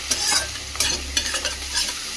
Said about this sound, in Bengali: পেঁয়াজ রসুনের সাথে আমি আতা পাতাটাও দিয়ে দিলাম।